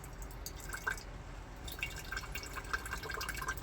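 Liquid pours and drips onto a paper towel while food is prepared in a van, giving a continuous wet trickle with scattered close drips and splashes and no talking.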